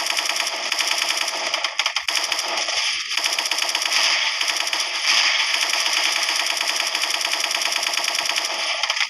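Continuous rapid gunfire in a video game rattles nonstop at close range, dense and loud throughout, with brief dips in the burst, no voices.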